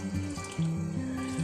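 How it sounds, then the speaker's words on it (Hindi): Water running and splashing into a cooking pot of boiled chickpeas nearby, a steady pouring stream with a low gurgling tone that shifts as the level rises. "अब मैं इसमें पानी डालूंगी"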